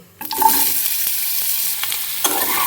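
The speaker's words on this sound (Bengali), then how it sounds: "তো এই যে সামান্য একটু তেলের মধ্যে দিচ্ছি একটু গোটা জিরে ফোড়ন। এরপর কেটে রাখা সবজিগুলো দিয়ে দেবো।" Whole cumin seeds and chopped vegetables drop into a little hot oil in a pan. A loud, steady sizzle starts abruptly and carries on close up, with no talking.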